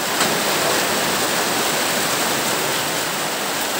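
Heavy rain pours down in a dense, steady broadband roar that holds at full loudness throughout, with no voices over it.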